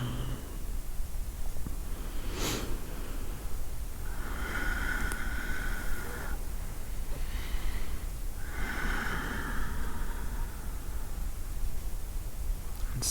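Slow, deep breaths during a yoga practice, with soft inhales and exhales rising and falling over steady background hiss, heard close and alone.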